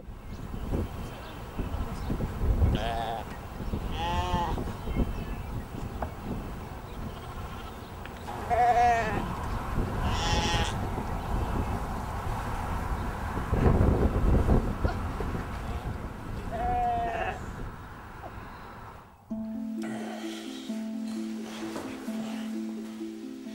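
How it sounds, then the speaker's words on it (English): Sheep bleating several times over a windy, rumbling background, each call wavering and fairly close. A tonal sound takes over at the end. "Baa like a sheep."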